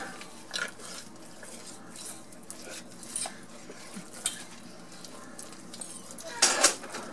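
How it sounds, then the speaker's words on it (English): A mixture stirred in a cooking pot, with faint scraping and light clinks of a utensil against the pot in an irregular rhythm, and a sharper clatter near the end. "keep stirring till it's well incorporated"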